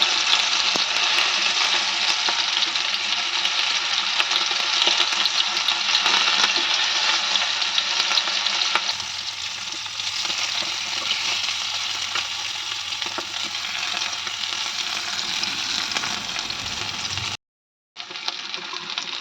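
Garfish frying in a pan with curry leaves, a loud steady crackling sizzle that softens partway through, with a brief silent gap near the end.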